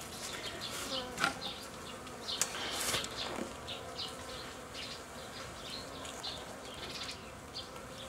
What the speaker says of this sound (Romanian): Aici avem albinuțele pe 4 rame.